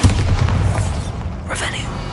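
A Bombarda spell blast in Hogwarts Legacy, a heavy booming explosion that fills the clip with dense low rumble, followed by a brighter crackling burst of debris near the end.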